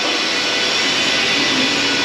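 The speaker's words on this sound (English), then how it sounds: "they're walking right along on this truck frame, needle scaling," Needle scaling and wire wheeling on a steel truck frame fill the air with a loud, dense, unbroken hiss and roar, close by and with no pauses across the two seconds.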